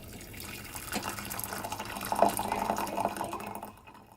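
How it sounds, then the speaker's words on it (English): Hot water pours from a hotel-room electric kettle or hot-water dispenser into a teapot, a close, steady trickle that builds in a Japanese inn setting and then tapers off. "So you just use that in the room and fill up your teapot."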